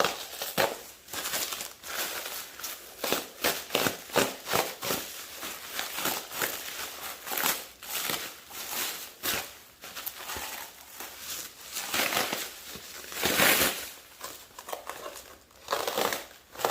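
Vinyl wrap being cut and crumpled on a fiberglass front airdam for a Chevy S10 minitruck, close crinkling and crackling in irregular bursts throughout with no talking.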